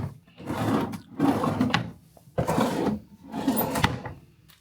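Drawers in a cruise ship veranda stateroom aboard Celebrity Reflection slide open and shut with sliding wooden rumbles, four rolling strokes in a row ending in soft knocks, close up with no voices.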